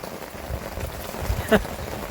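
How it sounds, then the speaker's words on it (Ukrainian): Rain falls in a steady, even patter, with a short muffled vocal sound briefly rising above it. "Дощ не припиняється."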